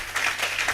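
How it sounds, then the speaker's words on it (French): A church congregation applauds together in praise, a steady wash of many hands clapping at moderate volume with a few swelling bursts, no voices over it. "Applaudissons un peu le Seigneur"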